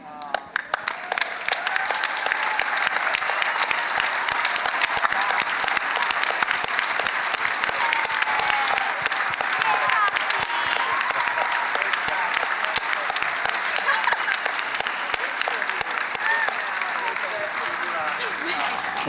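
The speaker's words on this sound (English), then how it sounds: "receive the round of applause they deserve." A large audience at a climate summit gives a sustained round of applause for youth climate advocates, dense steady clapping building in over the first two seconds and holding strong throughout without talk.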